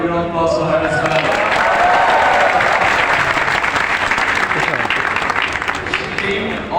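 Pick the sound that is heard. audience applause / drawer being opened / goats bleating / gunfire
audience applause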